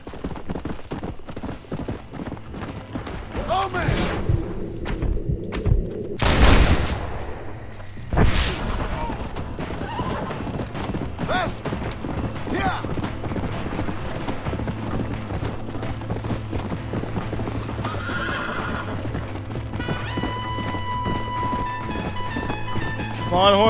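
Gunfire in the video game Red Dead Redemption, with a couple of loud booming shots cutting over steady galloping horse hooves, while a player talks intermittently.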